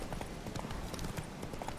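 Horse hooves clip-clop in The Witcher 3 video game, a steady close run of hoofbeats over ambient game sound as the horse moves along.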